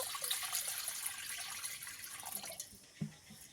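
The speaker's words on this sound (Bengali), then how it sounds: "কড়ার মধ্যে একটা স্ট্যান্ড বসিয়ে দিয়েছি। কিছুটা পরিমাণে জল দিয়ে দেব।" Water poured from a container into a wok fitted with a stand for steaming, a steady splashing trickle that thins out near the end with a small splash or knock, fairly quiet and with no voices.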